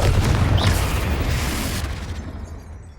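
A Confringo blasting spell detonates in Hogwarts Legacy, a heavy booming burst with a loud low rumble that rolls on for a couple of seconds before fading away.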